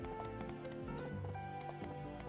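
Horse hooves clip-clop at a steady riding pace in a Star Wars video game, the rhythmic clopping set against sustained game music.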